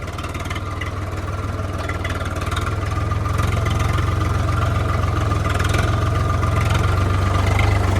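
A Massey Ferguson tractor engine runs loud and close during a tractor tug-of-war, a steady deep diesel drone that strains harder partway through, with no talk over it.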